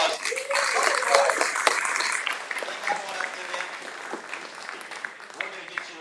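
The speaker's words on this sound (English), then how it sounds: "Give them a big round of applause." A crowd at a live auction claps after a sale closes, the applause starting loud and thinning out over a few seconds.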